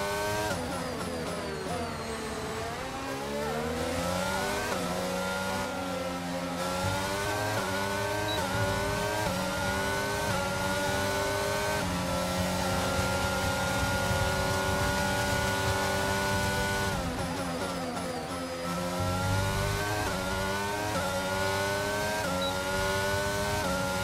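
Race car engine from a racing video game running steady laps, a continuous loud drone with harmonics that climb and drop through repeated upshifts and braking, no talking over it.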